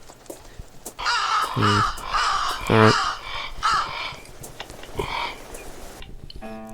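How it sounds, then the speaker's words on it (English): Crows caw repeatedly in the horror adventure game The Last Door, loud harsh calls in an ambient game soundscape, with someone briefly speaking over it. "Can we burn the crows?"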